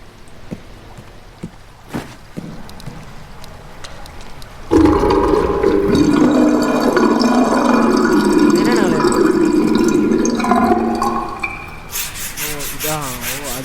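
Water rushes loudly as it drains from a bathtub in a bathhouse horror game, a steady gushing that starts abruptly and runs for several seconds before tapering off, with people talking over it.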